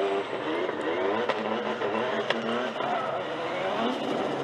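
A drift car's engine and tyres during a Formula Drift Japan battle run, a sustained revving engine drone with tyre noise, heard under a commentator's voice.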